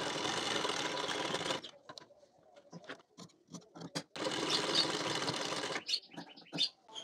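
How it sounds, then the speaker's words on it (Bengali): A domestic sewing machine stitches the seams of a blouse in two long continuous runs of rapid whirring, separated by a stretch of short start-stop bursts and clicks as the fabric is positioned. "এই দিকেও সেলাই দিয়ে নিতে হবে।"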